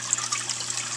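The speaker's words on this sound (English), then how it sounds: "it collects the water, keeps it from splashing, and then it just overflows back into here" Water spilling over the edge of a collection tray in a reef aquarium sump, a steady, close trickle and splash with no other sounds.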